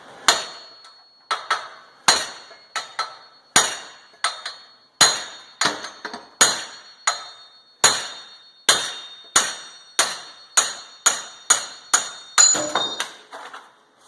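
A hammer strikes a race removal tool to punch a wheel hub out of a Hyundai Sonata, giving a loud, regular series of sharp metallic clanks, roughly one blow per half second, each ringing briefly.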